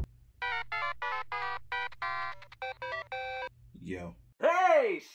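A phone ringtone plays a bright, tuneful sequence of rapid electronic beeps for several seconds, then cuts off as a voice answers with a quick greeting.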